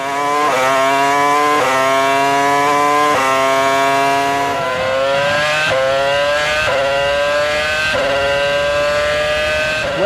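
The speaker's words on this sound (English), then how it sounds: "as you can hear, the engine note is a lot richer" A 2006 Formula One V8 racing car engine screams loudly at close range during the Bahrain Grand Prix, its pitch climbing in repeated sweeps broken by quick upshifts, alone without commentary.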